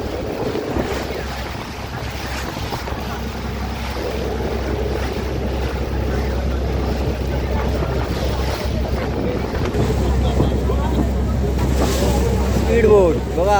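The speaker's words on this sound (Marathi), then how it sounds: "आपल्या मच्छीमार बांधवांची ही बोट आहे निघालेत आता मच्छी मारायला" A fishing boat's engine drones steadily at sea over wind buffeting and sea noise, with voices talking on and off.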